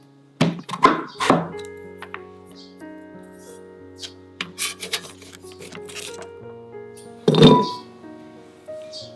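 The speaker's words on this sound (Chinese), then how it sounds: "然后切成小块" A peeled purple sweet potato is cut into small pieces, giving a few hard knife thunks on a board, close and fairly loud, with gentle background music running under them.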